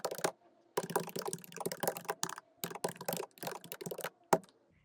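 Bursts of quick keystrokes on a computer keyboard while a message is typed, irregular clusters of clicks separated by short pauses, close and fairly quiet with no talking.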